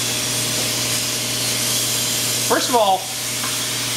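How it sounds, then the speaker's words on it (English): A Clean Storm Volcano carpet and upholstery cleaner with an 1800-watt heater and 220 psi pump sprays steam in a steady, close hiss, with someone briefly talking over it. "we get a lot of steam coming out of the unit"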